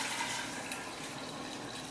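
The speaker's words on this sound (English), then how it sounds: "you're going to pour it into your gallon jar" Room-temperature brewed tea for kombucha poured into a gallon jar, a steady soft liquid splash and trickle heard alone.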